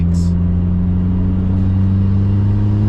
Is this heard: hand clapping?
no